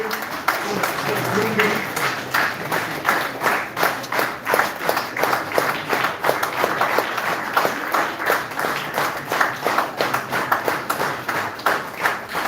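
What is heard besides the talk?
audience applause for students at an event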